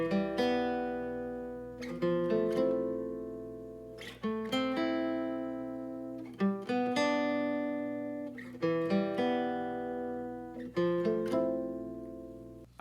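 A guitar riff, played solo as a clean, bright chordal pattern with repeated plucked attacks and ringing sustained notes, steady and close with no voices.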